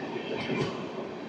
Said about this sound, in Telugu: ఈ ట్రైన్ ఇంకా ట్రాక్స్ మీద ఉంది